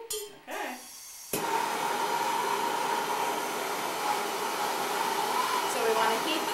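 A soldering torch roars steadily as its flame heats a plumbing fitting, the strong broadband hiss starting abruptly after a brief rustle and holding loud and even to the end.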